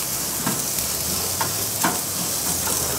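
Lamb and sides sizzling with oil on a grill, a steady close hiss and crackle with a few soft pops and clinks of tools throughout.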